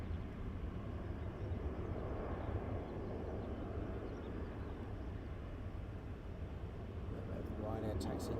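A Ryanair airliner taxiing at Luton Airport gives a steady, low rumbling engine drone that holds at an even level throughout, with a slight rise near the end.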